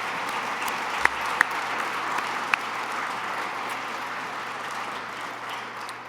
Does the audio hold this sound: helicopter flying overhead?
no